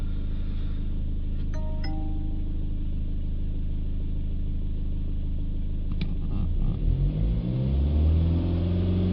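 A BMW 320d diesel engine, fitted with a particulate filter, idling steadily, then revving up with a rising, rumbling roar near the end, close by and with no talk.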